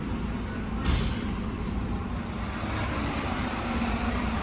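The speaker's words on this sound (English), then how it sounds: "Here comes the open top bus on its way." An open top bus rumbles past on a street in St Ives, Cornwall, its low diesel drone steady and close, with a brief hiss of air brakes and faint high squeal.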